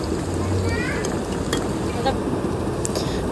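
Chicken and rice fry to a crisp in a pan, a close, steady sizzle with light stirring scrapes, while a voice talks over it.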